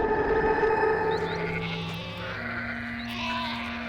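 A sheep bleats in a few wavering, nasal calls at moderate distance, heard over a soft background hum with no talking.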